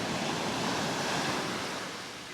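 Steady ocean surf washes ashore at a Gulf beach in Topsail Hill Preserve State Park, a continuous broad rush of breaking waves with some wind, fairly loud and with no voices.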